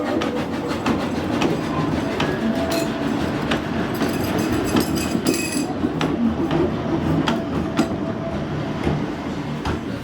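A steam train rolls steadily along the rails with a continuous rumble and rhythmic clickety-clack of wheels, close and loud throughout.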